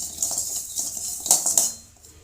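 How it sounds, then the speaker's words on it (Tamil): Roasted cumin seeds are tipped from the pan into another vessel, giving a brief patter of light clinks and scraping metal taps that fade out at the end. "சீரகத்தை வேறு ஒரு பாத்திரத்தில் மாற்றிக்கலாங்க."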